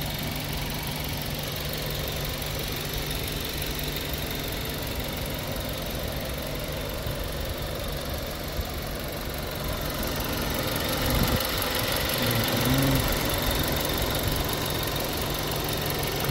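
A 2013 Audi A3 with a 1.4-litre turbo engine and S-tronic gearbox idles steadily under the hood, an even, continuous mechanical hum and whir heard up close with no talking.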